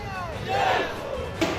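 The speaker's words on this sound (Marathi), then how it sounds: "सकल हिंदू समाजाकडून फटाक्यांची आतषबाजी करून जल्लोष करण्यात आला" A Hindu community crowd celebrating a town's renaming with firecrackers: loud massed shouting and cheering, with a sharp burst near the end.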